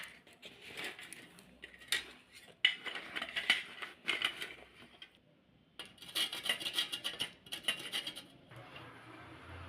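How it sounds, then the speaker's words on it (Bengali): A block of jaggery scraped over a hand grater for a sweet coconut filling, heard as two runs of rhythmic, close rasping strokes separated by a short pause, with no voices. "এই গুড়টাকে আমি গ্রেটের সাহায্যে গ্রেট করে নেব।"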